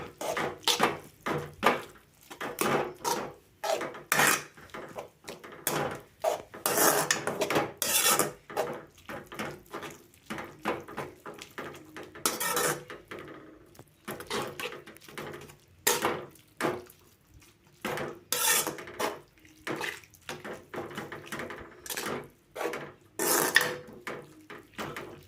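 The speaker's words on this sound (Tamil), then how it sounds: "பவுடர் ஆட் பண்ணி மிக்ஸ் பண்ண போகிறோம்" Korean ramen noodles being mixed with seasoning powder in a pot, heard as repeated uneven scraping and clattering of a utensil against the pot in short bursts with brief pauses, no talk.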